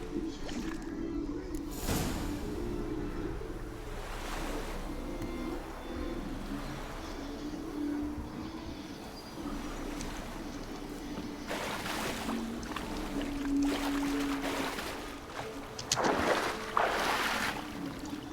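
Boat crossing a lake in the Witcher 3 video game, a low watery rumble and splashing churn under the hull, with people talking over it at moments.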